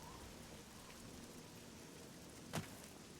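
Steady rain hisses across the whole stretch in The Elder Scrolls IV: Oblivion, with one short, sharp crack standing out near the end.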